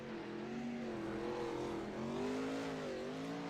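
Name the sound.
wingless race car revving on track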